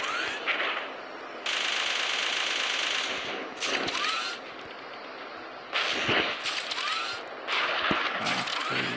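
Rocket and heavy gunfire from the Zombie Gunship mobile game: loud sustained bursts of rapid firing, several long volleys separated by brief lulls, close and dominant with no talk.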